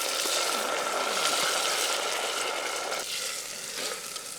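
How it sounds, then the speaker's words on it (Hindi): Green onions fry over an outdoor campfire, a continuous close sizzling hiss with faint stirring underneath, steady throughout and easing slightly near the end, with no one talking. "अब इसको भुनेंगे।"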